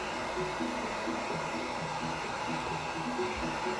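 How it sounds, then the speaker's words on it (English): A heat gun on its lowest setting blows over a 3D-printed model to melt off stray strings. The steady close airflow roars with a faint pulsing motor tone underneath and no talk. "So I'm gonna bust out heat gun."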